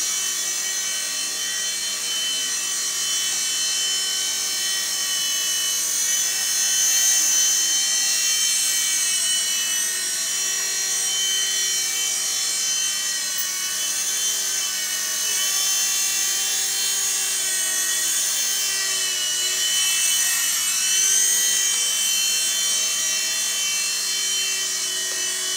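A small E-flite mSR radio-controlled model helicopter flying, its high-pitched electric rotor whine steady and continuous throughout, close and fairly loud with slight swells in level.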